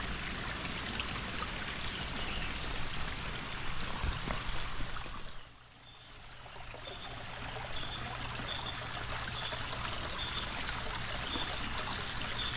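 Water trickles steadily in a small stream feeding a lily-filled koi pond in a forest in the United States, a continuous soft babble with faint birdsong in the background.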